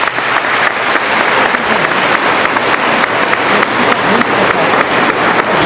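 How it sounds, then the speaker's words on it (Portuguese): A church congregation bursts into loud, dense applause during a Mass homily, many hands clapping in a close, continuous roar that stays strong and even throughout, with no speech. "Pode aplaudir essa palavra"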